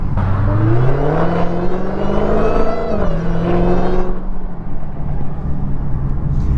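A Dodge Hellcat with a JLT cold air intake revs hard, its engine roar rising with a prominent supercharger whine through a long pull, then easing off as the whine fades, loud and close.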